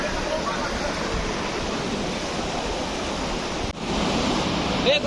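Rushing water at Kalu waterfall, a steady, loud broadband roar that fills the scene, briefly dipping once before resuming at full strength.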